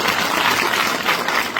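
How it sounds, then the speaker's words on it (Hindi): Loud, dense applause from a crowd at an official ceremony in Jammu and Kashmir where job orders are handed to the relatives of terror victims. It holds steady and sustained throughout with no voices. "जोरदार तालियों से"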